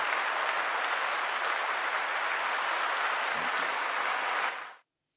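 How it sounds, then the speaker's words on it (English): A steady wash of crowd applause plays at an even level for several seconds, then fades quickly and cuts to silence near the end, with no talking over it. "We're going to give you a round of applause."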